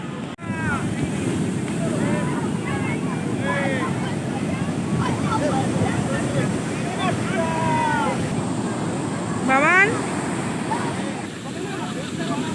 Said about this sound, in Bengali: সমুদ্রে ভীষণ ঢেউ আজকে আমাবস্যা